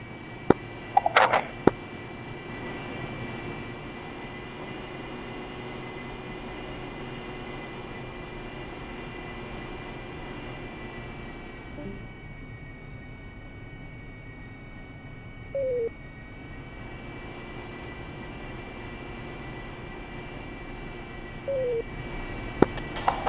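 Harrier jet idling and taxiing in the DCS World flight simulator, a steady low engine drone with a high whine held throughout, broken only by a few faint radio blips and clicks.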